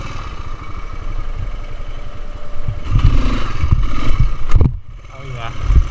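A Honda dirt bike's engine runs close by, chugging steadily, then revs harder and louder as a wheelie is attempted, then eases off and picks up again.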